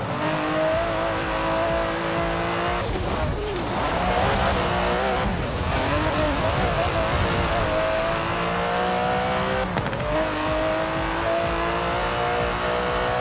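Aston Martin DB11 in the Forza Horizon 4 racing game, its engine droning and revving steadily with shifting pitch, punctuated by a few tire squeals and skids, loud and continuous throughout with no talking.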